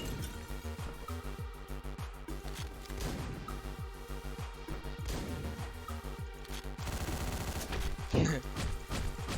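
Rapid gunfire from the top-down shooter Hotline Miami, a dense run of sharp repeated shots over driving game music, with a loud burst of blasts near the end and voices talking throughout.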